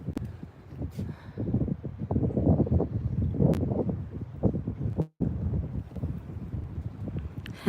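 Wind at the beach buffeting the microphone in steady low gusts, with a rough rumbling texture and a brief dropout partway through.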